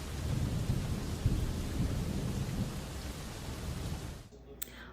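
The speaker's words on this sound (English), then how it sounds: "it just started raining like 10 minutes ago" Steady rain pours with rumbling thunder during Hurricane Helene in St. Johns, Florida, a dense unbroken wash of noise that cuts off abruptly near the end, leaving a brief quiet tail.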